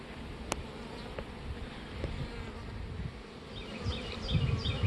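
Honeybees hum steadily around a backyard hive, a close, continuous buzz with individual bees droning past now and then and no talking.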